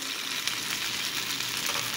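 Smoked sausage frying and browning in a greasy pan sizzles with a constant close crackle and hiss, with no voices.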